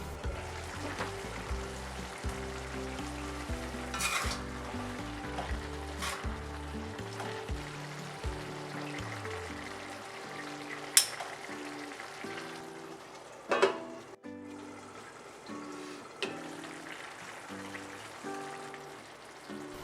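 Potatoes, spinach and chopped tomato in a pan give a steady, close sizzle throughout, with occasional louder crackles and stirring clatter, and no voices.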